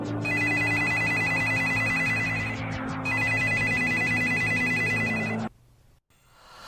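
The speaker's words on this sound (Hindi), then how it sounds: "तभी मेरा लैंडलाइन फिर बजने लगा।" A landline telephone rings at night in a quiet room, repeated electronic ring bursts at moderate volume with a short break in between, stopping abruptly near the end.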